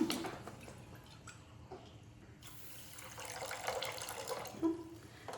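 Water pours and trickles into a pan to make sugar syrup for ghee Mysore pak, a soft, steady splashing under kitchen background noise with a brief louder splash near the end.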